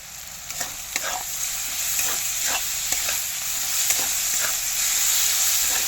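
Sugar is stirred into a sizzling pulao base in a pan, with soft scraping strokes that repeat over a steady frying hiss. The cooking is close and continuous, and no one speaks.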